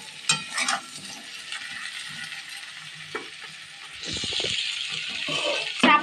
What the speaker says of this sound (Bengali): নিয়ে আমরা কিন্তু একটু ভেজে নেব আলু আর কচুর মুখিগুলো যেন সুন্দর করে।